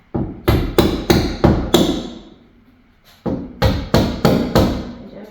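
Hammer striking trim clips on a 1967 VW Beetle during trim installation after paint, two sharp bursts of about five rapid ringing blows each, loud and close, separated by a short pause.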